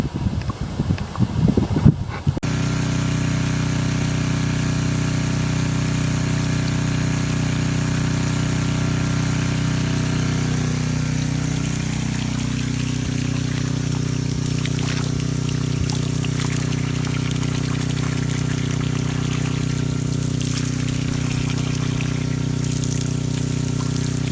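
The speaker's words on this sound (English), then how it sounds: "as that garden hose is down in there injecting water into the well, that's stirring everything up, and then you're sucking it out with this" Garden hose water pouring into a well while it is pumped out: steady engine hum and running water throughout, with a rougher burst of noise at the start.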